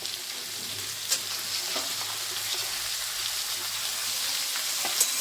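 Pumpkin greens with slit green chillies sizzle and crackle in hot oil in a pan, a steady close frying hiss with a few sharp stirring clicks and no talk.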